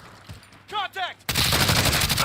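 M91 machine gun fire in Call of Duty Modern Warfare opens abruptly after a brief shouted voice, turning into a loud, dense, sustained rattle of rapid shots that continues to the end.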